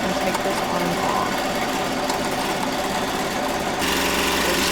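An embroidery machine fitted with a hat frame runs continuously, close and fairly loud, with a fast, even mechanical stitching rhythm and a hum that shifts slightly near the end.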